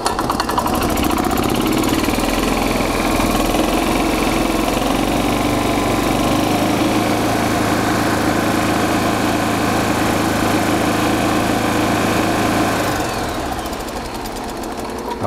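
Gas 1994 Club Car DS golf cart engine running steadily under throttle, a loud, close, buzzing drone held for about twelve seconds before it winds down and fades near the end.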